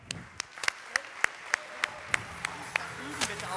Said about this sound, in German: Und donnernden Applaus für diese Ehrlichkeit.